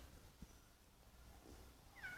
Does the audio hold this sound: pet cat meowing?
yes